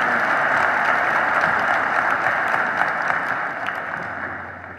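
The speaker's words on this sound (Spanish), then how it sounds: "Recibamos con un fuerte aplauso" An audience claps to welcome a speaker to the stage at a conference in Puebla, steady applause that holds strong and then fades toward the end.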